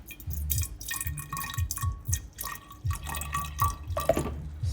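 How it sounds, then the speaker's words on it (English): Juice pours into a large batch of sugar-sweetened continuous-brew kombucha, giving a close, uneven run of splashing and dripping liquid sounds with a few brief gaps. "I'm just going to pour a bit of juice in there"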